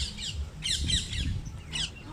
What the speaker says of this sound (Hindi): तोता, जंगली तोता है हमारे यहाँ